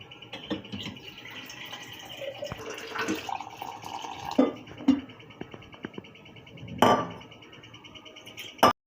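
Water is poured over cut elephant foot yam pieces in a pot, a close splashing trickle in several short bursts broken by knocks and clatters of the vessel.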